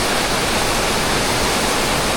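A waterfall pours down from above amid melting snow, giving a dense, continuous rushing roar that stays loud and steady throughout.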